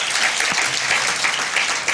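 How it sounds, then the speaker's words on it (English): Audience applause for a spoken word performer at a citizen assembly on debt and anti-corruption, a steady dense wash of clapping that stays loud and even throughout with no voices on top. "We clap for him once again."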